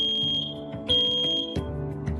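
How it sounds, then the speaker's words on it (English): A smoke alarm sounds when its test button is pressed, giving loud, piercing high-pitched beeps in short repeated bursts, heard alone. "It's critical to test your smoke and carbon monoxide alarms regularly. It's simple. Just press the test button."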